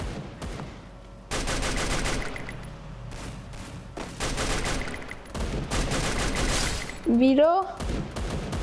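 M249 machine gun fire in the video game Free Fire: loud, dense bursts of automatic shots repeat across the clip, with brief gaps between them, and a short spoken word cuts in near the end.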